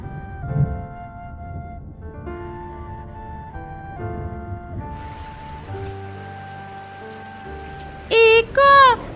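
Cartoon rainfall in a jungle, a soft shower hiss beneath a prominent musical score, ending with a few bright chirping tones.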